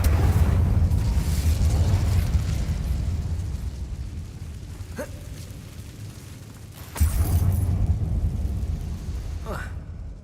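The Incendio fire spell in Hogwarts Legacy bursts with a loud, rumbling whoosh that slowly fades, then a second explosive blast erupts near the end, both dominating the mix.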